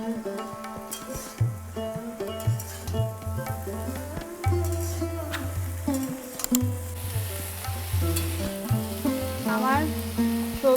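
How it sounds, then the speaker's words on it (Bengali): Chopped vegetables and cauliflower stalks fry in a pan for a Bengali red spinach dish, a continuous close sizzle broken by repeated stirring scrapes, with no talking. "একটু ভাজা ভাজা করে নেব"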